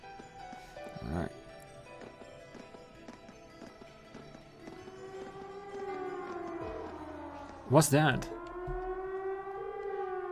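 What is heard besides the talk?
siren from a video game fort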